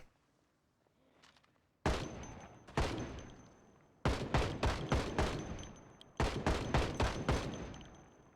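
Automatic gunfire in a zombie survival video game, loud and near: two single shots, then rapid bursts of evenly spaced shots, with a faint electronic tone behind.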